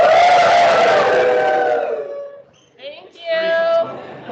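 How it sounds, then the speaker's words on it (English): A room of new students lets out a loud, sustained group cheer with whoops that fade after about two seconds, followed by a brief renewed burst of voices. "can everyone give me like a big wave and a little cheer?"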